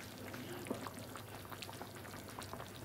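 Potato and meat stew with onion and bell pepper simmers in a pot, giving a faint, soft bubbling with scattered small pops and gurgles.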